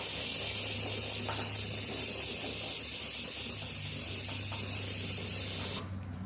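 A spray gun applies coating to a stainless steel tumbler with a steady, close hiss that runs unbroken for several seconds before cutting off abruptly near the end.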